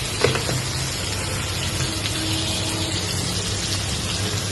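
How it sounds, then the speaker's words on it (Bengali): Shrimp with spices such as coriander powder sizzle in a pan for a Bengali pui shak chingri dish, a steady soft hiss with small crackles and a faint clatter near the start. "অল্প একটু ধনের গুঁড়ো দিয়ে হালকা হাতে ভেজে নেব।"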